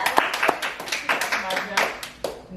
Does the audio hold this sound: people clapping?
yes